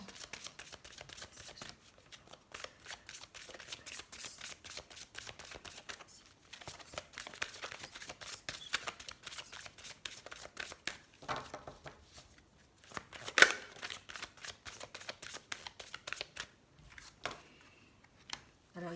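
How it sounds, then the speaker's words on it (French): Heart chakra oracle cards being shuffled close up, a soft, continuous papery riffling and flicking that runs for many seconds with brief pauses and an occasional sharper tap. "Alors on va prendre quelques cartes des chakras du cœur pour voir les messages, ce qu'il en est."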